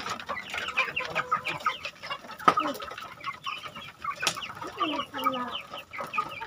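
Free-range village chickens cluck and peck while feeding on roughly chopped cassava leaves, several birds overlapping in a steady, busy chatter close by with a few sharper calls.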